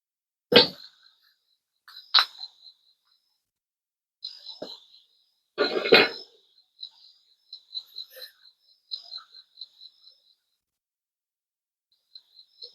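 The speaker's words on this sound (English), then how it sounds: "I do hear crickets." Crickets chirp outdoors at night beside a campfire with water nearby, a thin high pulsing trill in short bursts between louder sharp crackles and knocks, moderately distant and fairly faint.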